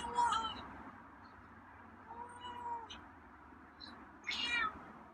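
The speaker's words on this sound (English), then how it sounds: "Wow, that's an interesting meow." A feral cat meows for food in a few drawn-out, moaning calls, close and fairly clear, with quiet background hum between the cries.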